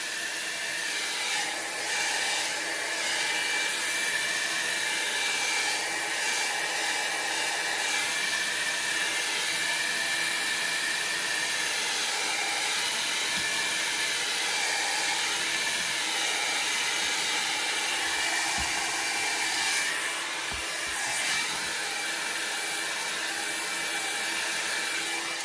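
Heat gun on high heat drying alcohol ink, a loud, continuous close-up blowing roar that holds steady throughout with only slight shifts, no speech over it.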